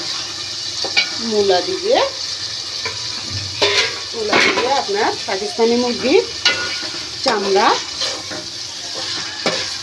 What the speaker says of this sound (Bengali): পেঁয়াজ, আদা, রসুন দিয়ে একটু হালকা ভাজা করে নিচ্ছি